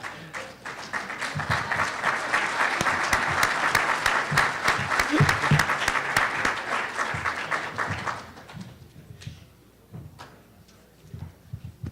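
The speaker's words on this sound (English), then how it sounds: "If we could just provide one more round of applause for our board chair for his keynote address." A conference audience applauds a board chair's keynote address at the 2014 CCCAA event, with dense, sustained clapping for about eight seconds that then thins into scattered claps and room noise.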